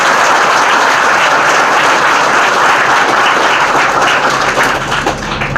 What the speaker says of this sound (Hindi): आप अपने लिए एक बार जोरदार तालियां बजाएं।